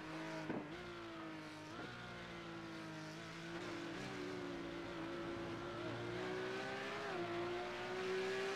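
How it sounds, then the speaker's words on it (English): A Porsche 911 GT3 Cup race car in iRacing at the Nurburgring 24h is held against the rev limiter, giving a sustained, moderately loud engine drone with a rising pitch and slight stutters across the whole stretch. "Hello, rev limiter."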